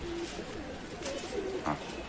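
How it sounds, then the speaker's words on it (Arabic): Low cooing from pigeons at a rooftop loft, a few short separate coos and faint rustling over a constant background hiss, no talking. "بص يا رجاله الحمام طاير المصداقيه اهو"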